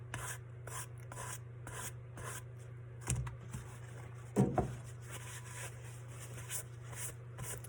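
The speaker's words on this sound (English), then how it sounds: "I'm rolling around the edges with the sandpaper. That way I can scuff it up and I get the black coming out." Sandpaper rubs around the edges of a painted tumbler, scuffing it to distress the finish, with soft repeated rasping strokes and a couple of brief louder scrapes over a steady low hum.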